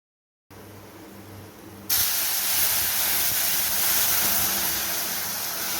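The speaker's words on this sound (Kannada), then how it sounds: "ಇದನ್ನಿಲ್ಲಿ ಒಗ್ಗರಣೆಯ ಬಾಣಲೆಯಲ್ಲಿ ಸೇರಿಸುವ" Boiling tomato rasam hits a hot tempering pan, a faint background hiss suddenly erupting into a loud, sustained sizzle that holds steady.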